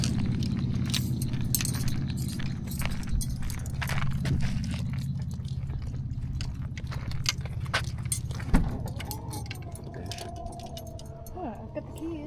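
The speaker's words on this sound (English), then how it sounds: "I've got the keys." A bunch of keys jangles close by in a series of light metallic clinks and rattles over outdoor background noise, with a sharper knock near the end.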